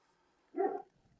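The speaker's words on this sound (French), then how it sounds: "devant, derrière, partout, il y a des chiens." A single short dog bark or yelp, fairly close and clear, standing alone against a quiet background with several dogs around.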